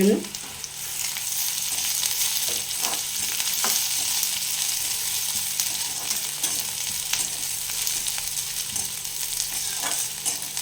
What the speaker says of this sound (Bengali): এখানে আমি দুটো শুকনো লঙ্কা দিয়ে দিচ্ছি একটু ঝালের